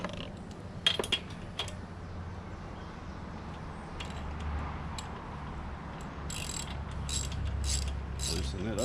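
Ratcheting clicks from a socket wrench loosening a spark plug on a Kawasaki FS481V mower engine, a few sharp close clicks early, then faint intermittent clicking bursts over a low steady hum.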